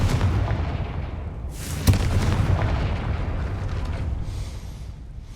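Confringo fire spell explosion in the video game Hogwarts Legacy: a sharp blast followed by a rumbling, roaring burst of fire that fades over several seconds, loud and with no talk.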